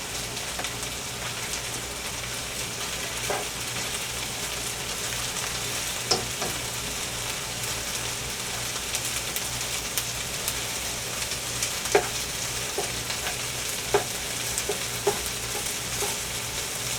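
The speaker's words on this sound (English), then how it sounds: "I let it kind of start cooking a little bit, and then I'll kind of stir it around." Okra frying in oil for a dish with corn and tomatoes, browning as it is stirred: a steady, moderate sizzle runs throughout, broken by occasional sharp scrapes and clicks of the spoon against the pan, with no talking.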